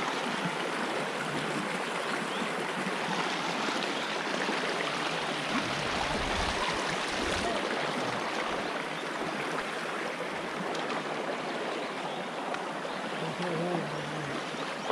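A small river in the dry season flows steadily as a boat crosses it, a continuous close rushing and splashing wash of water with no break.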